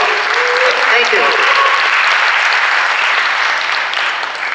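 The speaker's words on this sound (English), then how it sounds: "Round of applause." Loud, sustained applause from a keynote audience at an Intel CES Asia 2016 event, thick clapping close and even before slowly tapering, with a few voices mixed in.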